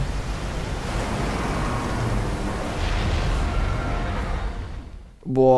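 A huge wave surges and crashes in Resident Evil Revelations, a broad, continuous roaring rush that swells then cuts off abruptly near the end.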